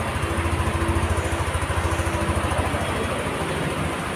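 A Yamaha NMAX Tech Max scooter engine idles steadily just after starting, a smooth low rhythmic putter close by, running alone without speech.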